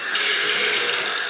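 A laundry room sink faucet runs with a steady, bright rushing hiss of water that starts at once and stays constant and close, with no talk.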